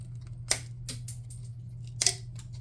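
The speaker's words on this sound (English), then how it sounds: "we're going to snip off the excess" Scissors snipping excess material while building a tabletop church model, two or three crisp separate cuts over a low steady hum, close and with no talking.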